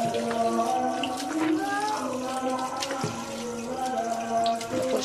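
Tap water running steadily while fish are washed clean in a home kitchen, a close continuous splashing rush with a few pitch shifts as the flow changes, and a voice speaking faintly underneath.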